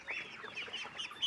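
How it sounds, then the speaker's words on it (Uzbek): Spring roosters clucking in a poultry yard by a pond, several short bright calls following one another at moderate distance with no talk. "Erta bahorgi xo'rozlar."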